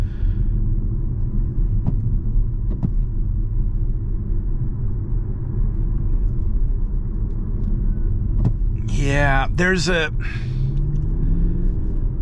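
Alfa Romeo Tonale Veloce eAWD on a test drive, heard from inside as a steady low engine and road rumble throughout, with a voice speaking briefly near the end over the drone.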